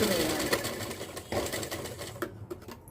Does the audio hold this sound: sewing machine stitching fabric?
yes